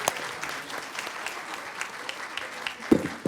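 Audience applause for student performers at a school board meeting, a steady patter of clapping with a louder burst near the end.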